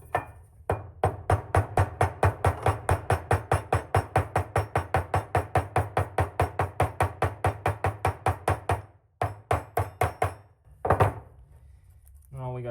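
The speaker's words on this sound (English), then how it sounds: "I'm gonna hit around this edge right here with a hammer" A hammer taps rapidly and evenly along the edge of a part to break masking tape, dozens of quick close knocks in a steady rhythm, pausing briefly before a few final taps.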